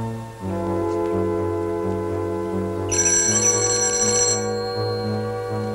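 An old telephone rings in a hospital setting, a steady repeating electronic ring in bursts, loud and close, with no talking.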